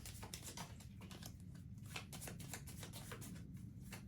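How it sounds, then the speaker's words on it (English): Playing cards being shuffled for a solo tabletop game of Dark Ages: Heritage of Charlemagne, a quiet rapid riffling flutter of many small clicks lasting a few seconds, with wind noise underneath. "Let's do the shuffle of this"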